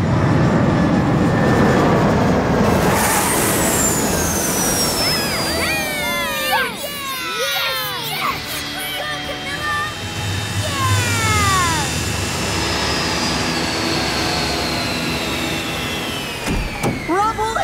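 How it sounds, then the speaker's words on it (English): Cartoon airplane coming in to land on a runway, a loud sustained engine roar with descending whooshes and whistles, layered with cheering, music and excited voices. "you are cleared for landing for real this time. Roger that, Rubble. I can see the runway."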